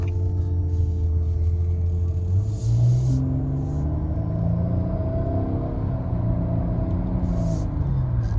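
Steady low rumble of road and engine noise inside a moving 2020 Nissan Maxima SL with a CVT, with a rising engine tone as it accelerates and no talking.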